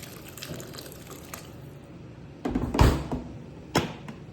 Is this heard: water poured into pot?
yes